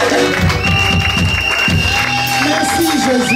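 A church congregation cheers and applauds at an ordination ceremony, a dense, loud crowd roar with shouts and rhythmic clapping mixed with music, sustained throughout.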